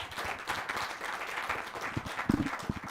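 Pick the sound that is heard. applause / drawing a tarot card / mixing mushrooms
applause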